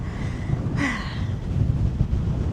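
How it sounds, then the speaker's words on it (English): Low rumbling wind buffets the microphone continuously on a hike, with a brief breathy swish rising over it partway through. "Oh, it's getting windy."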